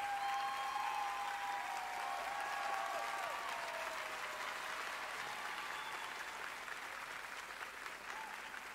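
An audience applauds at The Game Awards, a sustained wash of clapping that slowly fades a little, heard at a distance with faint whistles mixed in.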